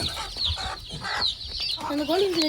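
Hen and young chicks on a farm, with steady clucking and high, thin cheeping that overlap in quick bursts, close and fairly loud.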